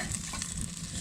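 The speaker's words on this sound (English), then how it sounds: "So we got some water heating up for oatmeal and coffee" Water heating on a camp stove for oatmeal and coffee, a steady hissing, faintly sizzling roar of the burner and warming pot, continuous and close.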